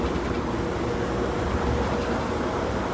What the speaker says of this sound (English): We're on the tram.